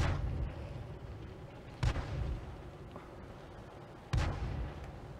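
Tank cannon fire in the online game World of Tanks: two sharp, loud booms a few seconds apart, each followed by a rumbling decay over steady engine and battle noise.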